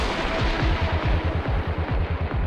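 A T-90MS tank's gun and weapons fire in a dense, rumbling barrage of rapid repeated thuds, loud and continuous from start to finish.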